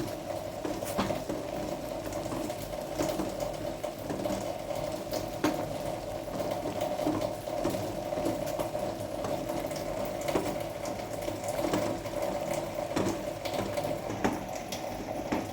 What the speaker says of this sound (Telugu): ఎగ్స్ చూడండి మంచిగా ఉడుకుతున్నాయి కదా